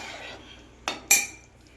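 A metal utensil crushes paneer into a thick shahi paneer gravy in a pan, with soft scraping and then two sharp clinks against the vessel, close by and with no talking.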